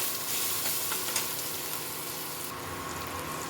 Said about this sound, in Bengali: এবার এগুলো ভেজে নেব ভালো মতো।